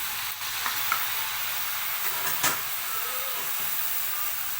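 Tomatoes sizzle steadily in a hot pan, a constant bright hiss with a few soft clinks of stirring.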